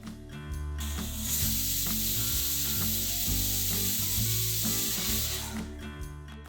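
A pressure cooker of Hyderabadi dal with spices on a gas stove lets out a whistle: a loud, sustained hiss of escaping steam lasting several seconds over low rattling from the cooker, then fading.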